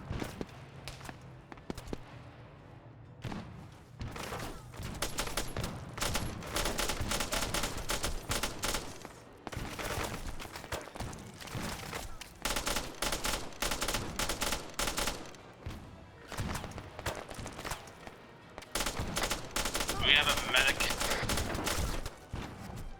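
Video game gunfire in rapid bursts and sustained automatic volleys, loud and close, broken by brief pauses and scattered thuds, with occasional voices underneath.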